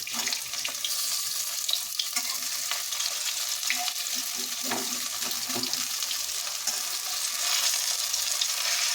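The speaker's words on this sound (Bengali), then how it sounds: "আপনারা চাইলে এখানে কম তেল দিয়েও কিন্তু বড়াগুলো ভাজতে পারেন, তবে আমি একটু বেশি তেলেই ভাজছি।" Lentil fritters wrapped in pumpkin leaves fry in a generous amount of oil, giving a steady, close sizzle and crackle that runs the whole time with no talking.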